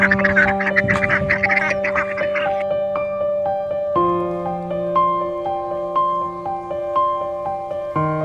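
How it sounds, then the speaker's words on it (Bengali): Ducks at a village pond quack in a cluster of rough, nasal calls that are strongest at the start, over a steady tonal background. "আর এইগুলো হলো হাঁস"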